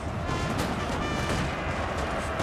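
Six-pounder cannon fire on a Napoleonic battlefield in Napoleon Total War, a dense, continuous booming rumble with no clear gaps, loud and sustained throughout.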